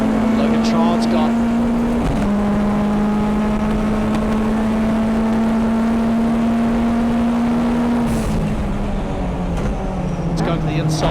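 Mitsubishi Evo and Subaru WRX race cars at the Hampton Downs circuit give a loud, sustained engine drone. It holds one pitch, shifts down about two seconds in, holds again, then drops near the end. A commentator talks over it.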